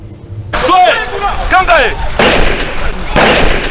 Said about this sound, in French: Ça tire dans tous les sens.